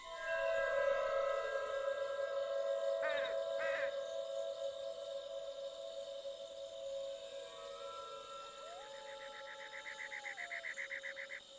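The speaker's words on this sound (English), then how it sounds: "you can hear dark ambient, the sound of crows and owls, maybe a wolf, maybe a bell sometimes" Night-time graveyard ambience in The Sims 2, several crow caws near the graves over a sustained dark droning pad, with later warbling tones, and no voices.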